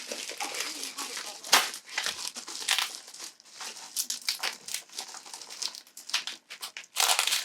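Crinkly plastic crackling and rustling in bursts as packing material is handled up close, with brief louder crunches throughout.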